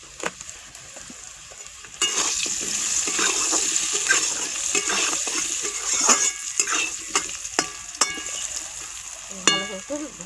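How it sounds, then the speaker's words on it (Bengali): Potatoes with turmeric frying in a pan for fish paturi, a steady sizzle that jumps louder as they are stirred, with scraping clinks of a spatula against the pan. "ভালো করে একটু ভাজা ভাজা করে নেব।"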